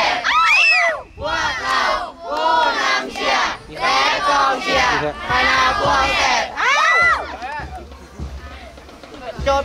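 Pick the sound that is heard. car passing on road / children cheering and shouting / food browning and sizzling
children cheering and shouting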